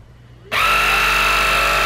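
NEEBo PUPPY T10 vacuum cleaner switching on with its rotating brush, snapping from quiet into a loud, steady high-pitched motor whine with a low hum beneath, close by.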